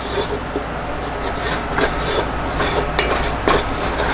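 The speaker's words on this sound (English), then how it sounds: "Keep on scraping in the corners to get all the stuff out of there" A spoon scrapes the corners of a pot while stirring roux for étouffée, a continuous close rubbing and rasping with faint sharper scrapes, over a steady background hum.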